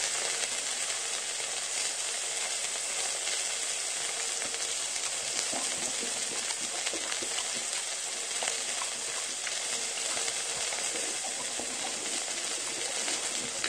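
Wild boar meat with the skin still on sizzles and spits on a hot grill, a dense, continuous frying hiss with scattered crackles and pops, close and steady for the whole stretch.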